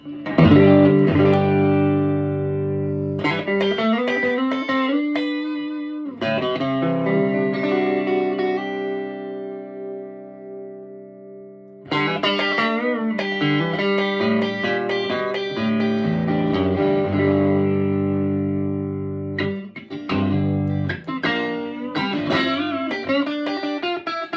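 Electric guitar played through a Supro tube amp, chords and single notes ringing out with a wash of reverb, warm and slightly distorted, no voices.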